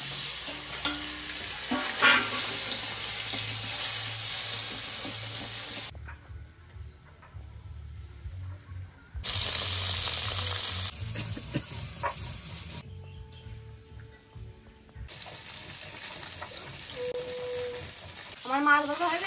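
Fish frying in oil in a village kitchen, a strong close sizzle that drops away and returns in bursts, with a few scraping knocks and a faint voice near the end.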